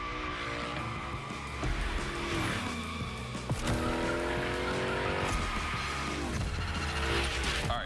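In The Crew Motorfest, a car slides through a gymkhana course with tires squealing repeatedly over a revving engine. The pitch of the squeals sweeps up and down as the car drifts, close and loud with no talk.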